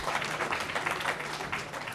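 An audience gives a dense burst of applause for Mark Wilson, with many hands clapping steadily at close range, loud and continuous, and faint voices mixed in beneath.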